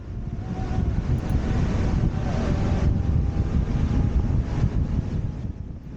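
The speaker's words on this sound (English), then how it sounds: "Pretty windy here." Steady, heavy wind roar buffets the microphone while riding a Wolf Warrior 11+ electric scooter at close to 50 miles per hour, a dense low rumble that stays loud throughout with no talking.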